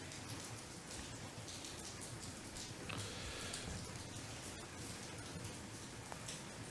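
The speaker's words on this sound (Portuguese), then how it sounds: "Eu acho que não recordo de um Goshoten com tanta chuva, né?" Heavy rain pouring steadily during an outdoor ceremony, a dense, unbroken wash of drops drumming on surfaces, continuous and moderately loud with no voices.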